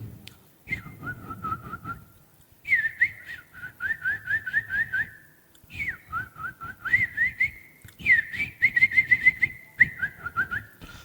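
A beatboxer's whistled imitation of birdsong: repeated bursts of rising and warbling chirps in short phrases separated by brief pauses, clear and close with no other sounds.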